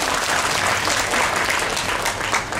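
A crowd claps steadily and loudly at the opening ceremony of a cost-of-living relief fair held at Hua Mak stadium, the dense applause continuing throughout with no pause.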